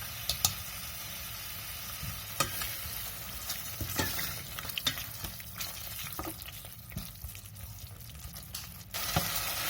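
Spices with turmeric, red chilli and salt fry steadily in oil in a pan for an aloo moongray dish, a constant close sizzle broken by occasional scraping stirs.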